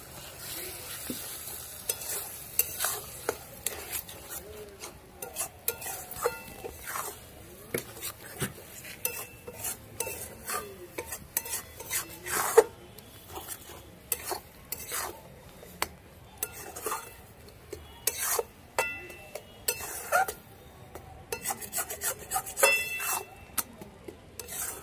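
A pan of egg and tomato curry being stirred for dinner: repeated clattering scrapes of a spoon against the pan over a soft background sizzle, irregular strokes continuing throughout, close and fairly quiet, with no voices.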